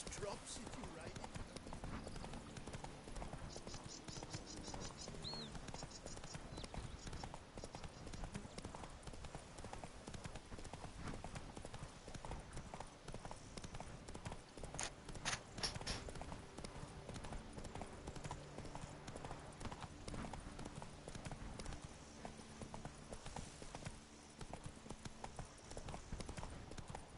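Horse hooves in a PS4 video game clip-clop in a steady rhythm throughout, with a voice talking over them and faint background music.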